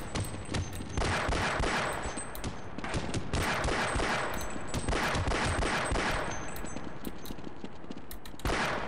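Sustained rapid gunfire from an automated turret in the video game Half-Life, a loud, dense stream of shots running nearly the whole time with short bursts standing out and no break.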